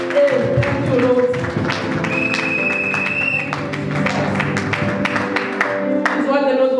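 A congregation claps at a Sunday church service, a loud, busy patter of hands layered over sustained music and voices that fills the whole stretch.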